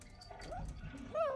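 A small dog in the film Venom whimpers in a few faint, rising high whines, the clearest near the end, over quiet soundtrack background.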